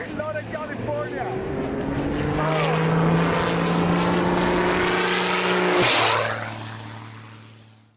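Propeller-driven aerobatic airplane flying over a skydiving center in Northern California, a steady droning engine whose pitch slides and swells as it passes close around the middle, then fades away at the end.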